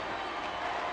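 Dense wash of clapping from a crowd in the video game Reverse: 1999, steady and moderately loud throughout.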